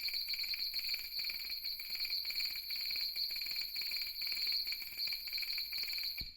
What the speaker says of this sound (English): In the list, this was called flute ensemble, but for me it sounds like a cicada.